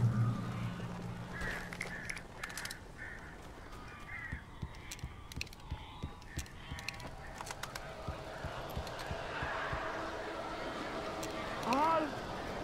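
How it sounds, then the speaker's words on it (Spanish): Strange birds cawing in the Alan Wake video game, scattered harsh calls and clattering flutters over a murky ambient bed, with a clearer cluster of cries near the end. "¡Estos pájaros son muy raros!"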